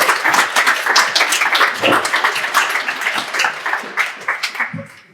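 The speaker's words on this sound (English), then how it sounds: "Please give a warm applause for Funda." An audience at a Broad Meadow launch event for Habitat City applauds Funda, loud, close clapping that carries on steadily, then fades out near the end.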